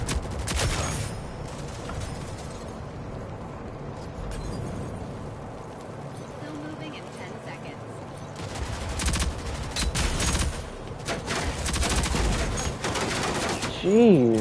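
Bursts of video game gunfire and automatic weapon fire crackle through a competitive shooter match, rapid volleys rising and falling with occasional heavier blasts, mixed with game effects.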